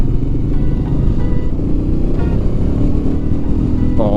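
A Royal Enfield Meteor 350 single-cylinder motorcycle is ridden under a steady, loud low engine rumble mixed with road and wind noise, with a brief higher whine near the end.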